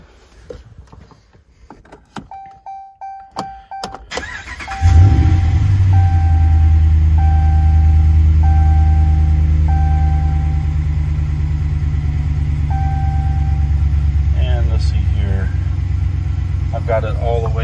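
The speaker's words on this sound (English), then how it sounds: "So let's crank it up, see what happens." Dodge Ram pickup with a 5.7 Hemi V8, parked for about two hours, cranks after a few soft warning chimes and catches with a loud burst, then settles into a steady, close rumbling idle that continues to the end.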